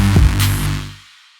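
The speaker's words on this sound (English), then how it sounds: "And with that, sub-oscillator sounds like this." A Reason synth bass note in a patch with a saw sub-oscillator adding a distorted low texture, rings out loud and full for about a second before fading away.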